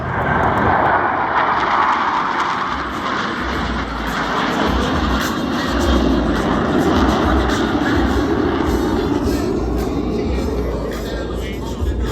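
US Navy Blue Angels jets performing at the Bethpage Jones Beach airshow: a loud, continuous roaring jet engine rumble that swells and fades slightly throughout, with a faint voice now and then underneath.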